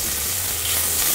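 Strips of bull meat searing in hot olive oil in a pan for jambalaya give a steady, even sizzle and hiss that fills the moment without any talking.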